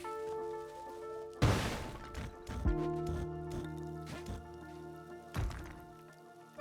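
Two heavy booms from bombs in Spelunky 2, each a sharp explosion a few seconds apart, set against steady game music.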